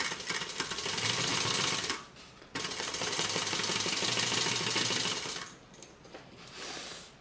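A sewing machine stitches across a handbag at a half-inch seam allowance, running in a close, steady whirring buzz that stops briefly, resumes for several seconds, then slows and trails off.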